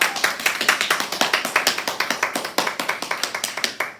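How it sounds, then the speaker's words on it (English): Children applauding themselves after a classroom leprechaun trail mix activity, a small group clapping near and crisp with uneven, rhythmic individual claps and no talking. "Give yourselves a round of applause."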